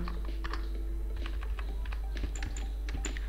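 Rapid, irregular clicks of a computer keyboard as someone types in MS Word, close and steady over a constant low hum, with no speech.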